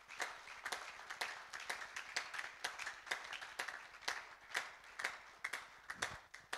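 A church congregation claps in a steady rhythm, with irregular slaps spread across the room at moderate loudness and no cheering voices clearly audible.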